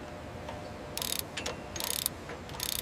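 Torque tool tightening fasteners during Boeing 787 Dreamliner assembly on a factory floor: several short, loud ratcheting bursts spaced by pauses, over a steady low industrial hum.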